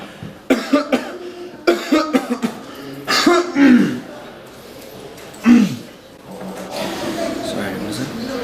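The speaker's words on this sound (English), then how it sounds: "You're not gonna cough louder than this?" A person coughs in a series of short, harsh bursts, followed by one more forceful cough and some quieter throat noise, close up in a scene from a short festival film.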